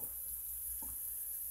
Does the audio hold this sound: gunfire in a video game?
no